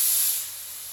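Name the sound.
paint spray gun hissing with air pressure turned down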